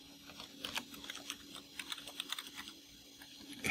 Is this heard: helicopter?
no